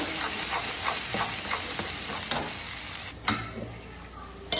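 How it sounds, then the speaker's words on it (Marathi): Onion-garlic masala with black and red chilli powder fries in a pan for chicken curry, a steady hissing sizzle broken by rhythmic stirring scrapes and a few sharp clinks near the end. "यात आता काळा तिखट, लाल तिखट, कांदा लसूण मसाला घालून हा मसाला छान परतून घ्यायचा।"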